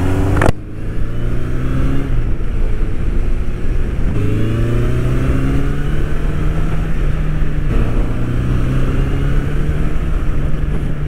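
A Honda CB1100 air-cooled 1100cc four-cylinder motorcycle revs up steadily through the gears, its smooth engine note rising and dropping at each shift, loud and close with wind rush and no talking.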